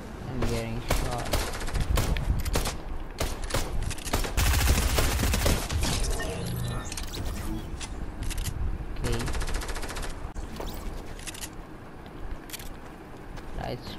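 Rapid gunfire crackles in a Fortnite match, with bursts of shots and loud impacts, the heaviest volley in the middle and sporadic shots afterward.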